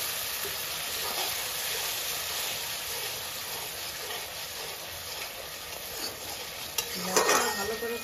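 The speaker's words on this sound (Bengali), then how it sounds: "আমি মশলাটা একটুখানি জল দিয়ে কষাচ্ছি।" Spice paste cooking down with a little water in a pan for Bengali egg malai curry, a constant loud hiss and sizzle with scraping stir strokes and a brief clatter of the spoon near the end.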